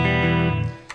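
A Knaggs Kenai electric guitar played through its neck pickup, with a sustained, thick chord ringing out and slowly decaying, then a brief pick scrape at the end.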